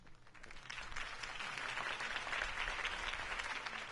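Crowd applauding a Harvey Dent campaign speech in Gotham, a dense, steady round of clapping that swells slightly and holds with no talk over it.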